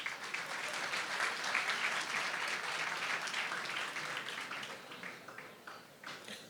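An audience at a speech claps together in a sustained round of applause that stays full for several seconds, then thins and tapers off near the end.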